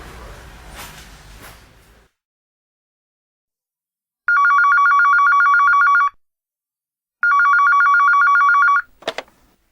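Mobile phone ringing for an incoming call: two loud, close electronic ring bursts of about two seconds each with a gap between, following a stretch of quiet background noise.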